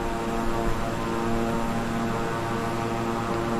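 A King Air 350i twin-engine turboprop cruises in flight in the Microsoft Flight Simulator game, its engines giving a steady, loud, unbroken propeller drone with no talking.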